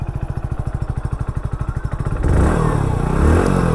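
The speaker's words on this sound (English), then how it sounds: "let's also hear the exhaust note" A Hero HF Deluxe Pro commuter motorcycle exhaust putters in quick, even pulses at idle, then jumps into a louder, rougher rev for the last second or so.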